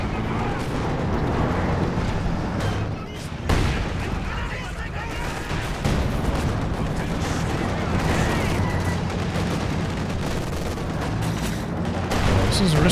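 Battlefield combat in a World War II strategy game match, with double mortars pounding the center alongside a StuG and other guns: dense, continuous booming and rattling fire, loud and unbroken, with a commentator's voice underneath.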